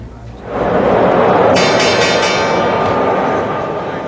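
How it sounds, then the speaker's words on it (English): The Wall Street stock exchange opening bell clangs loudly over a noisy crowd roar, sustained for a few seconds before the din slowly eases. "It was the opening bell on Wall Street"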